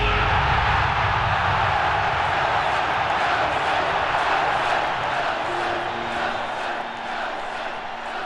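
A stadium crowd chants and roars as one dense, loud wall of voices. It holds fairly steady throughout and eases off slightly toward the end.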